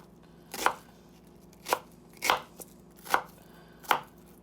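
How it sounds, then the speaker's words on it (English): Knife chopping an onion on a cutting board, five distinct sharp chops spaced unevenly about a second apart, close and clear with no talking. "give it a good chop."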